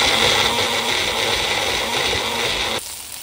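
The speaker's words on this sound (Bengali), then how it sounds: "খুব সুন্দর এখানে ঢেঁড়সটা ভাজা হয়ে গেছে, একদম লাল লাল করে ভাজা হয়ে যাচ্ছে।" Okra frying in a pan for bhindi masala curry, a steady close sizzle and hiss that runs unbroken, then drops off sharply near the end.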